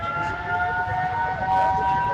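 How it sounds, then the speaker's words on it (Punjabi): A civil defense siren during a blackout in Amritsar holds a steady wailing pitch throughout, loud and continuous, with faint background rumble beneath it. "ਇਹ ਆਵਾਜ਼ ਹੈ ਸਾਇਰਨ ਦੀ"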